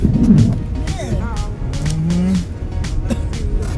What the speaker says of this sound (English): Man, it's burning tire.